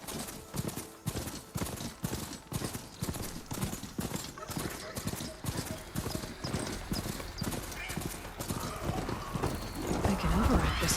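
A mechanical machine mount trots across the ground in Horizon Forbidden West, its hoofbeats forming a steady, even clip-clop that carries on throughout at moderate volume.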